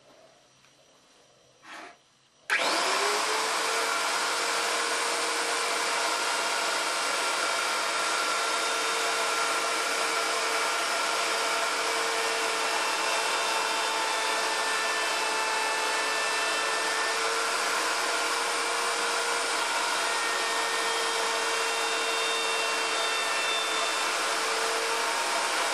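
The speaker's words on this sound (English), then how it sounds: "Not going to be able to hear me talk anyway with the router going" A wood router cuts into a bass guitar body at loud, steady volume, whining continuously for over twenty seconds after a brief click and short burst at the start, with no talking.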